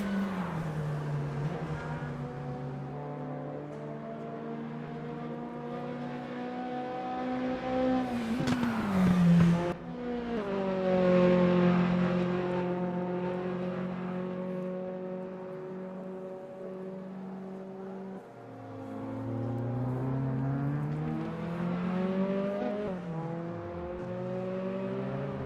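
Mazda MX-5 race cars lap a circuit in RaceRoom, engines droning and whining steadily with shifts, a sharp lift and rev change as they take the last turn, then climbing again onto the next lap.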